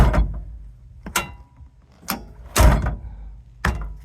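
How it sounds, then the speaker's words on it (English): The cab door of a CAT 535B wheel skidder with a replaced handle opens and closes repeatedly, giving four or five sharp latch clunks and thumps at roughly one-second intervals with quiet mechanism noise between them. "Now door opens with one finger."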